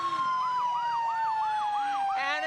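Fire engine siren from the Port Alberni Fire Department's ladder truck at a fall fair parade, wailing in a steady up-and-down sweep, close and prominent over a constant engine drone.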